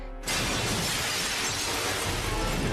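Glass shatters loudly as someone crashes through a window in an animated Batman episode, a sudden burst that spreads into a sustained crash and scatter of breaking shards filling the whole clip.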